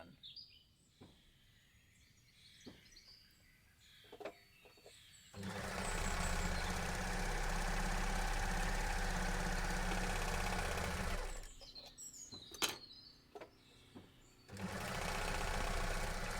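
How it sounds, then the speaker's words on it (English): Overlocker serger running in two sustained stitching bursts through fabric for a costume, a loud steady mechanical whir close by, with quiet handling clicks and rustles before and between runs. "One more thing to overlock, and then we really are done."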